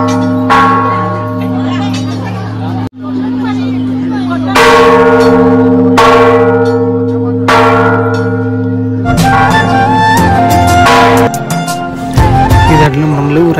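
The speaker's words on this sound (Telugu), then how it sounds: "ఇక్కడ మన మండపం ఉంటుంది. బెల్లు కొట్టేసాలి." A temple bell at the Jayaganta mandapam of a Hindu Venkateshwara temple is struck repeatedly, each loud metallic clang ringing out and decaying over a steady hum, with chimes overlapping toward the end.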